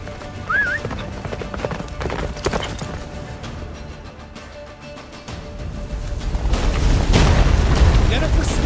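Roach gallops in The Witcher 3 during the battle of Kaer Morhen: steady, close clip-clop hoofbeats under heavy booms and rumbling blasts, with a brief whinny, building louder toward the end.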